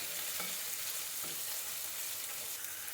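Chopped onion and garlic fry in hot oil for a dried Bombay duck and garlic-leaf bhuna, giving a steady, close, even sizzle with a couple of soft stirring knocks and no voices.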